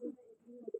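A pigeon at a Halisahar pigeon club tournament gives a brief, low, throaty coo, with a few soft pulsing notes near the end, close by and fairly quiet.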